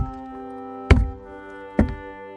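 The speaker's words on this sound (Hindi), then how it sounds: "ये खोखली जमीन की आवाज है, जैसे नीचे कुछ छिपा हो।" Two dull, hollow thuds a second apart from hollow ground in a forest, close and low, over a quiet steady hum, with no talking.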